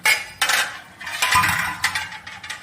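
A spoon stirs bottle gourd and prawn curry in a metal pot, giving a run of close, irregular clinks and scrapes against the sides with short pauses between strokes.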